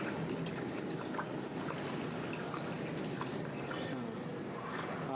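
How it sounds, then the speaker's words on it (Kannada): Water is poured onto about nine kilograms of sugar to make jalebi syrup, giving a steady close splashing and dripping patter that continues throughout. "ಸಕ್ಕರೆ ಹಾಕ್ಕೊಂಡು ಈಗ ನೀರು ಹಾಕ್ಕೊಂಡು ಈಗ ಇದನ್ನು ಪಾಕ ಮಾಡ್ಕೊತಾರೆ"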